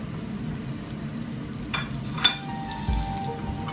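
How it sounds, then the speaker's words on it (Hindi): Onions dropped into a cup of hot oil sizzle and fry steadily, a soft continuous hiss with a couple of small spatters and a light stir. "एक कप साढ़ा ऑयल, फिर प्याज डाल दें"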